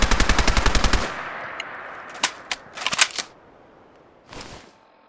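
A submachine gun firing in Fallout 4, a rapid burst of about ten evenly spaced loud shots, followed by a few scattered clicks and mechanical reload sounds.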